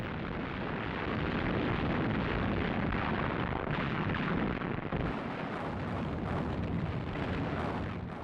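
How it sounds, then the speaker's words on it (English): British artillery bombardment opening the Battle of El Alamein in the North African desert, a continuous dense rumble of guns and blasts, loud and sustained with overlapping booms and no speech. "British opened up an artillery bombardment on Rommel's positions."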